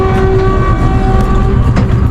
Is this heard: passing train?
yes